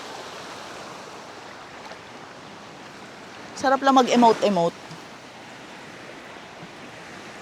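Moderately rough sea waves wash against a rocky shore as a steady, broad surf hiss, with a short burst of nearby talk partway through.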